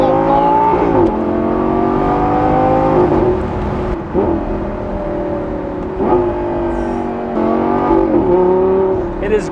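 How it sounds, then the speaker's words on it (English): A Lamborghini Gallardo Performante convertible's engine revs hard while driving, rising in pitch through several gears with brief dips at each shift, loud and close inside the car. "This car wants to be revved out."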